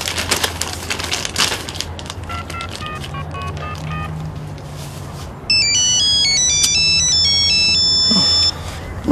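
A telephone ringtone plays loud, bright electronic chirping tones for about three seconds midway, after a stretch of quieter room noise with scattered tapping and clicks.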